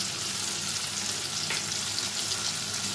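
A paste of cumin, nigella seed and green chili fries in a pan for a hilsa fish curry. The sizzle is loud, continuous and close, with no voices over it.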